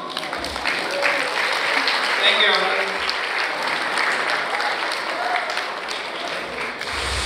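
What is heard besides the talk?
wedding reception guests applauding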